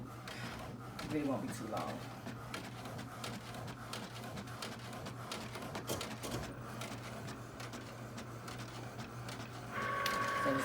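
An inkjet printer runs a sticker sheet for Cricut print and cut, a steady mechanical whir with rhythmic carriage clicks throughout, swelling louder near the end, while a person talks briefly over it.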